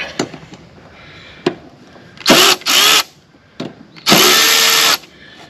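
Power tool, likely an impact driver, backing out bolts from a mower blade spindle on a 52-inch Wright Stander, with short clicks followed by several loud, sustained bursts, close up and with no talk.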